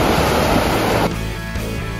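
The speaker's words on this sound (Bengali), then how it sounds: "ফাইনালি চলে আসলাম আমরা একেবারে সমুদ্রের" Sea waves at Marina Beach, Chennai, a loud broadband surf roar that drops abruptly halfway into a softer, steadier wash.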